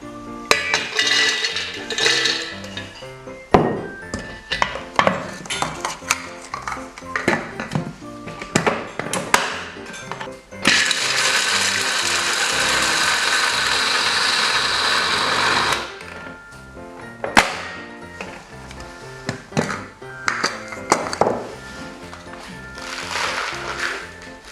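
Cooled almonds crushed into small crumbs in a kitchen, heard as a steady loud mechanical whir lasting several seconds, likely a blender or processor, surrounded by bursts of clattering and clinking dishes before and after.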